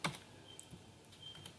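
A few sparse keystrokes on a computer keyboard, one sharper tap at the start and light taps after it, quiet and close with no talking.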